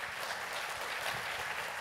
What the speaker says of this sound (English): A great round of applause for the panelists